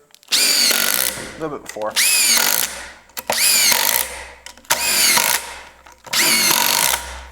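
A cordless drill drives screws into wood in five loud, close bursts of rising motor whine, each separated by a brief pause, with someone speaking briefly between runs.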